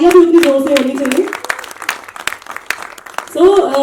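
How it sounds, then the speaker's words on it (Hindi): Applause rings out at a Hindi film trailer launch, scattered crisp claps spread across the room while a presenter speaks over the start and end. "ये तो बहुत बढ़िया अनाउंसमेंट कर दी, तालियां भी उतनी जोर से होनी चाहिए।"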